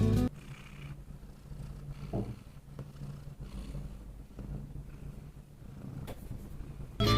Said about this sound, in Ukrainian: Послухайте, як вона мурчить.